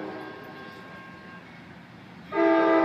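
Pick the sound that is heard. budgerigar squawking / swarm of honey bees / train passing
train passing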